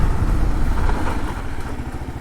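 A 2022 Kawasaki KLR650 with ABS brakes hard on a road rise, its engine rumbling loud and close with a pulsing low throb that eases slightly as the bike slows.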